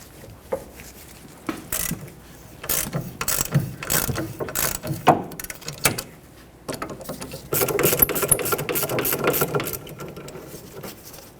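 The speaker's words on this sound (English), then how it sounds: "Use a 14mm socket and remove the 2 bolts holding the caliper bracket onto the knuckle." A ratchet with a 14mm socket loosens the caliper bracket bolts on the steering knuckle of a 2006-2010 Hyundai Sonata, giving bursts of rapid clicking pawl sound that stop and start, close and fairly loud, with no talk.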